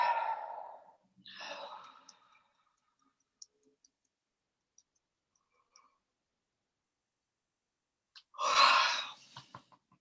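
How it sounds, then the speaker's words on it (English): Three slow, deep breaths during a relaxing tapping exercise, close and soft: two near the start, then a long quiet gap with faint ticks, and a fuller exhale near the end. "Deep breath."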